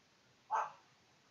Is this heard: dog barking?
yes